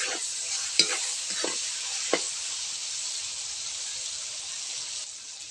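Kasway sautéing with tomato in a pan: a steady bright sizzle with a few scraping stirs near the start, close and continuous.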